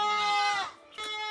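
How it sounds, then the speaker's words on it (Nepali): In a rural village in the morning, a goat lets out one loud, drawn-out bleat, nearby, then gives a second short bleat after a brief pause. "बिहान उज्यालो भयो त बाख्रा कराउनु सुरु भइहाल्छ"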